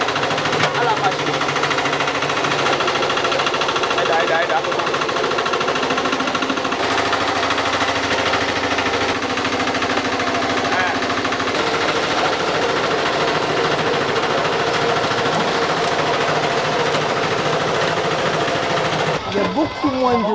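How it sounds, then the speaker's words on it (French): A fruit-processing machine for oil extraction in Pobè, Benin, runs loud and steady with a dense, continuous mechanical rattle and hum for about nineteen seconds, then cuts off abruptly near the end. "Nous allons mettre maintenant le fruit à la machine."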